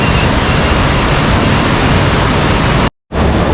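Floodwater in a swollen river after a heavy Haridwar cloudburst rushes in a steady, loud, broadband roar, broken by a brief dropout near the end.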